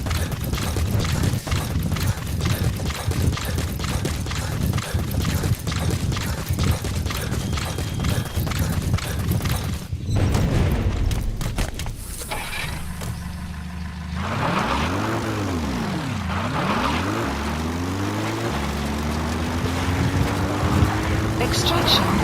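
In Metal Gear Solid 5, a support helicopter arrives with a steady mechanical roar and rhythmic rotor beating. Then come whooshing sweeps as it nears and passes close by, while a voice speaks over the first part.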